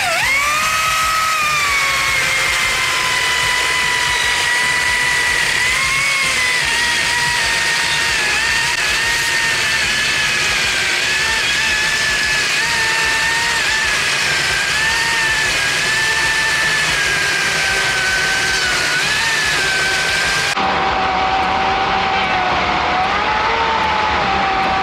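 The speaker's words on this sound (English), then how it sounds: "show you the GCU04 18-inch rear-handle chainsaw on our XGT platform. We have four 6x6 logs here" Makita GCU04 18-inch rear-handle cordless chainsaw cutting through 6x6 timber logs at a trade show, a loud steady high-pitched whine with small pitch shifts for about twenty seconds before cutting off abruptly, then a lower hum.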